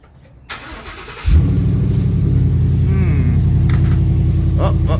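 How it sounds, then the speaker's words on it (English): A car engine cranks briefly and catches, then settles into a loud, steady idle rumble close by, with a soft chime sounding partway through. "I'm first just going to turn on the car"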